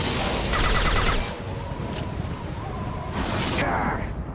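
Gunfire in the Mass Effect 2 game, loud rapid bursts of shots in a few clustered volleys over a continuous noisy battle din.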